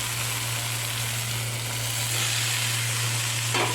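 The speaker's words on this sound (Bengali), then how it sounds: "এরপর আমি এর মধ্যে দিয়ে দেবো কেটে রাখা বাঁধাকপিটা।" Chopped cabbage goes into potatoes frying in a pan, giving a dense, steady sizzle with a constant low hum underneath and a brief sharper crackle near the end. No one speaks.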